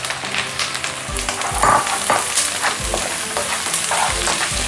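Chicken pieces for carbonara crackle loudly in a hot pan, a constant close sizzle punctuated by several heavy stirring scrapes and knocks.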